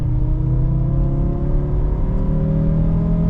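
A Renault Safrane's 2.5-litre 20-valve five-cylinder engine pulls steadily from inside the car, a loud, smooth rising drone that climbs in pitch without a break and with no talking over it.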